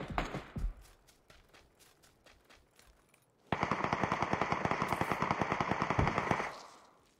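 Rapid bursts of automatic gunfire in PUBG on the Erangel map, a loud sustained volley after a few scattered shots and quieter clatter, then trailing off.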